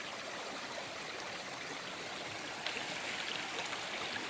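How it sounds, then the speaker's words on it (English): A river at San Gabriel East Fork flows with a steady, soft rushing wash of water, continuous and fairly quiet with no voices. "The river here."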